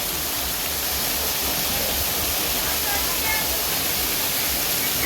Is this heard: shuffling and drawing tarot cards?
no